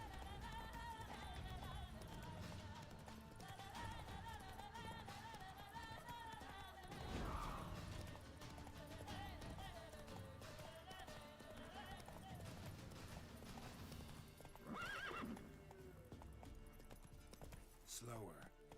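Roach, the horse in The Witcher 3, gallops with a steady clip-clop of hooves beneath game music and effects, a short whinny cutting through midway, while a person talks over it.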